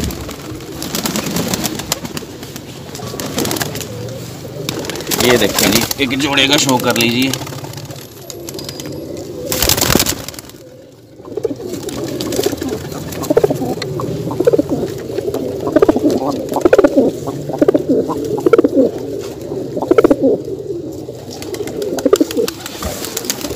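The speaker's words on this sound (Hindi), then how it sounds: "ये कबूतर देखिए" Soft pigeon cooing murmurs through most of the stretch, mixed with people talking nearby and a little background engine noise.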